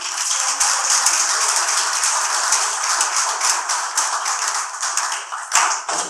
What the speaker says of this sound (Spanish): Así que fuerte el aplauso